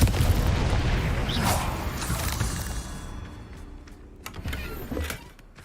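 A Confringo blast spell cast in the video game Hogwarts Legacy, a burst of booming, crackling impact up front that settles into lower rumbling game action with a few sharp later hits.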